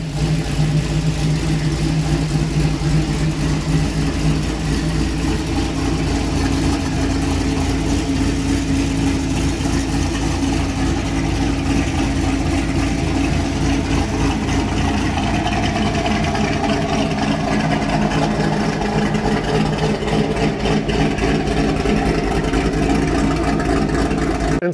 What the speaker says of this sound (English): I gave the C6 a quick start so we could see exactly how it sounds with the new headers in place